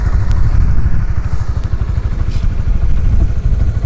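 A 2020 Honda Winner X ABS motorcycle engine runs at a steady, loud idle close by, with an even throbbing pulse and light mechanical clatter throughout.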